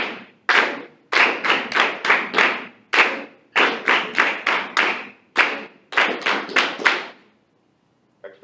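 A group claps hands together in a rhythm counting exercise for an eighth-grade class, producing crisp, loud claps in short rhythmic bursts separated by brief pauses, then falling silent at the end.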